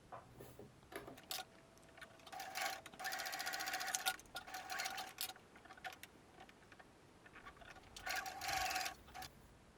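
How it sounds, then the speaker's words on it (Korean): A sewing machine fitted with a zipper presser foot stitches a zipper onto fabric for a zippered AirPods case, running in several bursts of steady rapid needle chatter with short pauses between. "약 1cm 간격으로 쭉 재봉해주세요."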